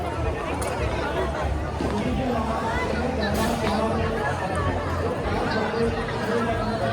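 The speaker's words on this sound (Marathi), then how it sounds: "पब्लिक एकदम प्रचंड गर्दी आहे." A large crowd chattering at a Marathi wedding, a dense and continuous babble of many voices blending into a steady roar with no single voice standing out.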